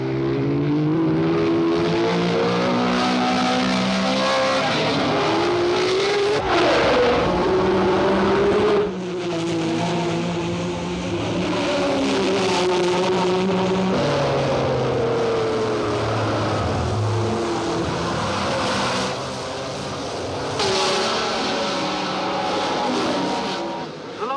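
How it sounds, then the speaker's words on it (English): Formula 1 race cars at the Monaco Grand Prix, including a red Ferrari and a green BRM, with loud high-revving engines droning and shifting pitch continuously as the cars pass close by. "At the tobacconist, it's Sarti's red Ferrari ahead of Stoddard's green BRM number 12."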